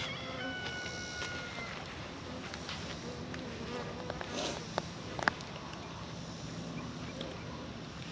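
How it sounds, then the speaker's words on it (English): Bees buzz steadily and faintly in the background on a farm, a soft continuous hum with a few light clicks and taps nearby. "There's a lot of bees in there."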